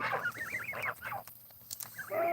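Regular and hybrid Canada geese living alongside chickens honk and call in quick wavering bursts at close range, pause briefly, then call again.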